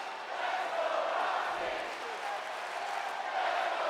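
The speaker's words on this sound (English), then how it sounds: "This crowd actually here tonight rooting on Roxanne Perez, Roxy." A wrestling arena crowd in WWE 2K24 keeps up a steady cheering roar, broad and fairly distant, with a commentator talking over it throughout.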